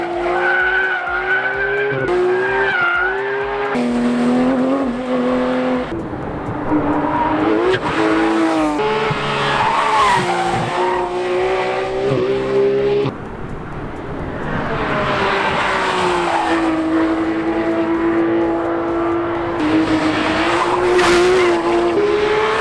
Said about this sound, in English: take a look at these corner shots we managed to get and listen to the noise of this motor